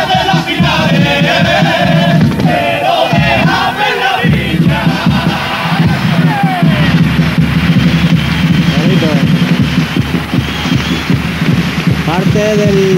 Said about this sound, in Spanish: Parte del patio butaca se pone en pie para aplaudir esta letra